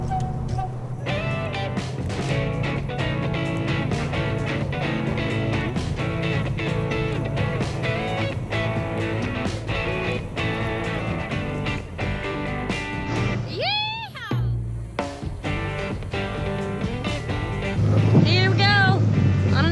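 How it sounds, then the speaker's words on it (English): Airboat ride across the Mary River wetlands in the Northern Territory: a loud, steady engine and propeller roar throughout, with a voice whooping briefly over the din near the end. "Here we go, on an airboat ride."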